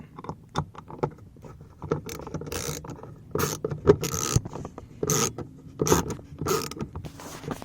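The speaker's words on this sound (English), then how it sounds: "I got my little ratcheting Phillips head. Alright. Obviously, you're going to turn them left to loosen it." A small ratcheting Phillips screwdriver loosens door screws on a 2007 Chevy Cobalt, giving quiet clicking ratchet bursts and scraping in several short bouts, close and fairly soft.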